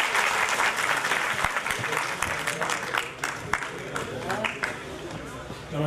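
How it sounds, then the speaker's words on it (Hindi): Seminar audience at a GST event in Chandigarh bursts into sustained applause, dense overlapping clapping filling the room, with voices talking underneath. "तालियों के साथ स्वागत करिए"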